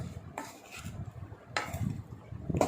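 A spoon scrapes and clinks inside a pot while a sardine and grated coconut mixture is stirred, a few quiet knocking strokes spaced over a couple of seconds.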